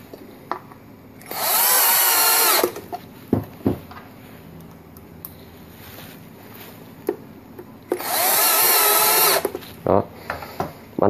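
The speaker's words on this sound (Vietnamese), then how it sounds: "Bắn ba con vít tự khoan đây là rất là chắc." Power drill driving self-drilling screws to mount a C6N-type security camera: two loud sustained whirring bursts of about a second and a half each, with scattered clicks and handling knocks between them.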